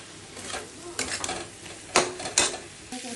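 Jackfruit seeds and prawns fry in a pan for a Bengali prawn curry, giving a steady hissing sizzle with intermittent scraping and clattering stirs, close and fairly loud, no speech.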